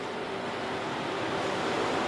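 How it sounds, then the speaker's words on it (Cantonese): Wind and waves roar at sea around a burning cargo ship loaded with scrap metal off Stonecutters Island during a third-alarm fire, a constant, loud, broadband rush with no distinct breaks. "由於現場有風浪"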